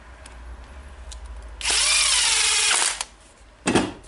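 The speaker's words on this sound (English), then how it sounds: "so I will tighten the screw" Cordless screwdriver briefly whirs while tightening a screw during reassembly of a Makita BJV180 jigsaw, one sustained close buzz of about a second and a half, then a short second burst.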